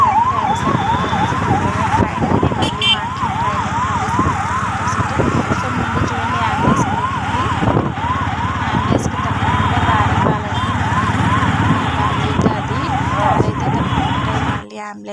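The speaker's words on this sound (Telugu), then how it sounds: "ప్లీజ్ అంబులెన్స్కి దారి ఇవ్వండి" An ambulance siren wails in a steady up-and-down rhythm on a village road beside a bridge, loud and close over continuous traffic noise, then cuts off near the end.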